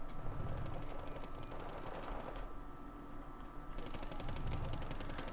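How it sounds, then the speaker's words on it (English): Mortars fire in a military strategy video game, double 120 mm tubes, heard as steady rapid gunfire-like bursts with a continuous crackling roar throughout, fairly loud and with no talk. "Oh, mortars firing."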